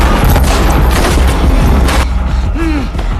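An inspector fires at terrorists during a hotel siege in Mumbai, a loud dense burst of gunfire and booms at close range, followed by a quieter tail with mechanical noise.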